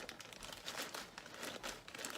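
Mushroom-growing straw being stuffed and packed down into a zipper bag makes quiet, close crinkling and rustling in uneven bursts, with no talk.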